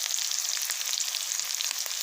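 Red chili and onion sizzling in hot frying oil with neem leaves, a steady, dense crackle of frying that stays loud and even throughout, with no talk.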